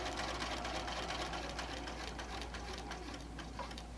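Sewing machine stitching through a stiff quilted potholder padded with Insulbright and Warm and Natural batting, running as a steady close, loud mechanical whir with a fine ticking rhythm throughout and no talk.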